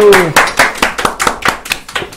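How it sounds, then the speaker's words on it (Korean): Studio audience clapping to welcome chef Yeo Kyung-ok, a veteran Chinese-cuisine cook, onto a Korean talk show; a short burst of close, steady hand claps in a quick regular rhythm. "박수! 박수."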